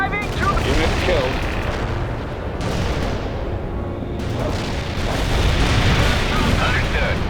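Dense, loud artillery barrage in a World in Conflict battle, with heavy booms and explosions rolling together continuously, overlapping rumbling blasts and some radio-style game voice chatter mixed in.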